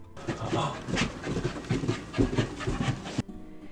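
A Goldendoodle puppy pants in quick, rhythmic huffs close by, short breathy puffs repeating steadily with no talking.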